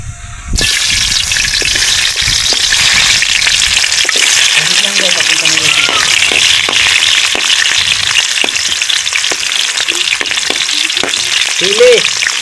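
Onions sauté in a hot pan for escabeche with a loud, steady sizzle and occasional stirring scrapes, and a brief voice cuts in now and then.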